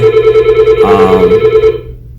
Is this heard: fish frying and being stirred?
no